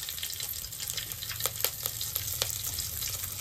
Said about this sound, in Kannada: ಏನಾಗ್ತಿದೆ ಒಗ್ಗರಣೆನ?